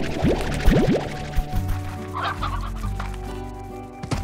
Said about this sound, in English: So many chickens.